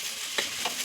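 Egg rice is stirred in a frying pan over steady sizzling, with two brief spatula scrapes standing out near the middle and end.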